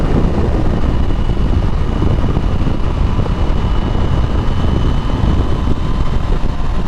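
A 2024 KTM 890 SMT motorcycle being ridden gives a steady, loud engine drone mixed with heavy wind buffeting, continuous for the whole stretch with no talking.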